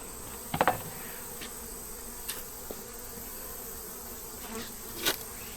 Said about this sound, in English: Lots of bees up here above the queen excluder.